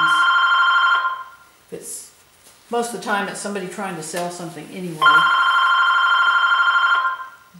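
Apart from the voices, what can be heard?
telephone ringing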